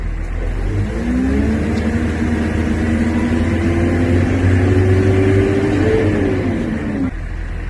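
An excavator's engine, jacked up with the travel lever in forward, revs steadily and loudly as the accelerator pedal is held down, with a rising whine sustained for several seconds before dropping back toward idle.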